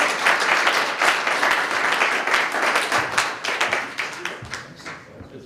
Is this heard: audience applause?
yes